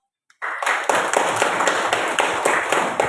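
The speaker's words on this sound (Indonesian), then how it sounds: "Oke, berikan aplaus." Classroom audience applauding at a teaching practice session in Indonesia, a dense burst of many hands clapping that starts abruptly and holds steady and fairly loud to the end, with no talk over it.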